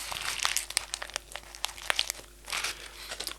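Paper scrunched inside cupped hands, giving close, irregular crackling and crinkling bursts that rise and fall across a few seconds, with no talking.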